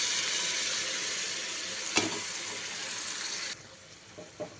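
Spinach puree mixed with other items is poured into a hot pan and sizzles loudly and steadily, a brief clunk midway, then the hiss drops away to quieter stirring and a couple of soft knocks.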